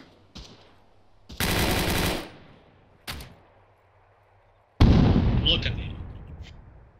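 Machine gun bursts in an ARMA 3 firefight: a short rattle, a sustained loud burst, another brief one, then a heavy close volley with echoing tail, with a voice talking over the gunfire.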